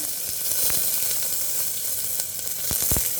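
Cumin seeds and dried red chillies sizzling in hot oil for a spinach kadaiyal, a continuous bright close hiss with a few soft pops and clicks near the end.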